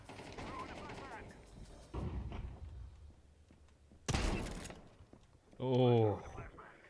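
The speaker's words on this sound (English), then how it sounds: "Throwing a flashbang" Flashbang grenade in a tactical shooter game: a sharp bright burst, with game chatter and voices before it and a further loud mechanical tone after.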